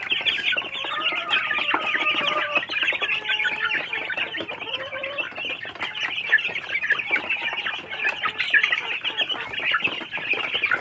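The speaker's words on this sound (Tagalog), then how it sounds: "limang babae na mga manok na BPR" Several Barred Plymouth Rock hens cluck and murmur continuously at close range, a busy flock chattering with overlapping calls and no talking.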